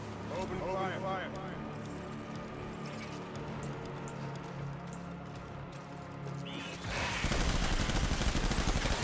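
Dense, continuous gunfire from the video game Tactical Strand Action, rapid overlapping shots under a voice talking throughout, growing louder and harsher near the end.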